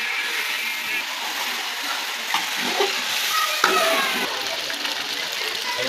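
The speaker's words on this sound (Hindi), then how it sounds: "इधर जी हमारा बन रहा है चिकन, जो हम कर रहे हैं फ्राई।" Chicken fries in a pan with a steady, close sizzle and hiss, broken by occasional scraping and clinks of stirring, while a person talks faintly over the cooking.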